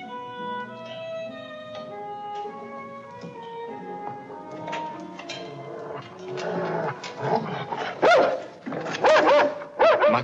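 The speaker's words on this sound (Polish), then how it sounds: "Makarego wystraszyły trzymane często po ówczesnych zamkach psy rasy Dog Arlekin" Harlequin Great Dane dogs kept at a castle bark loudly in a burst of deep barks and growls near the end, after a stretch of sustained tonal background sound.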